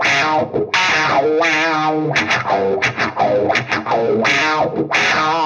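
Electric guitar riff played through a POWER 50 overdrive pedal with no amp, heavily distorted and snarling, with bent and wah-like sliding notes over a loud, sustained, continuous tone.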